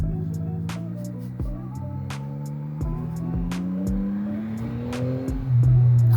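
Yamaha MT-09 motorcycle with its stock exhaust, restricted A2 version, accelerating through the gears: a rising engine drone repeatedly cut by shifts, close to the microphone and loud, with no speech.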